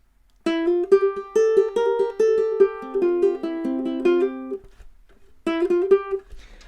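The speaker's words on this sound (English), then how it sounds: "we play it without the hammer on." Plucked ukulele notes, played without hammer-ons, ring out one at a time in a steady, unhurried line, a brief pause, then a few more notes, close and clear.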